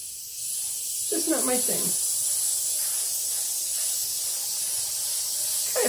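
Airbrush spraying paint for an acrylic puddle pour, a steady close-up airy hiss that runs through the whole stretch while a voice talks briefly over it.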